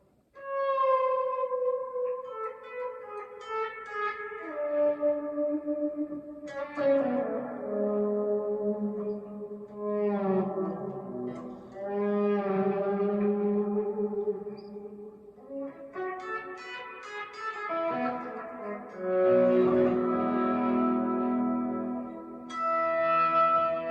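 Electric guitar notes and chords fade in slowly through a Vertex UltraPhonix pedal used as a volume swell, blooming into sustained, bell-like, ambient tones that rise and fall in long waves, with no attack at the start of each note.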